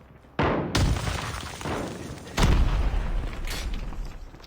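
Loud gunfire aimed at the player's character in Call of Duty: Mobile. Two heavy blasts open sustained roaring, rattling fire, with a third burst joining it.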